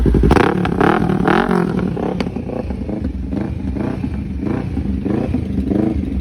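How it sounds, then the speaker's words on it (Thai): 2016 Kawasaki Ninja 650 motorcycle starting and idling: a loud, close, steady engine rumble with rhythmic pulsing, a few sharper revs and clattering mechanical noise throughout. "สตาร์ทดูเลย สตาร์ท เครื่องดี"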